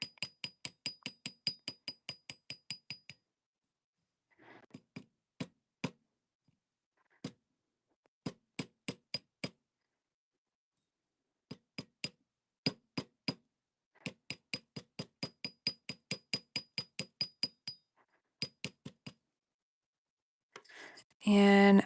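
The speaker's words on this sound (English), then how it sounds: "we're gonna keep hammering" Sharp metallic hammer strikes ring out in quick bursts of steady blows separated by pauses, close and clear, during a craft demonstration shaping wings; a brief louder noise comes at the end.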